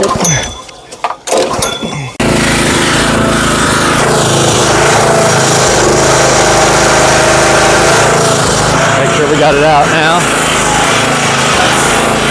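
A small gasoline engine on a seed tender sputters briefly, then catches and runs loudly and steadily at high revs, with a few words spoken over it at the start.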